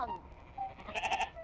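Sheep bleat in a video game, a couple of short, fairly faint wavering calls near the end, with a voice murmuring faintly underneath.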